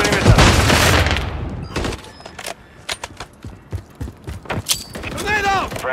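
Gunfire in the video game Modern Warfare 3 on PS5, with a loud opening burst followed by a string of sharp individual shots and game voice callouts over them.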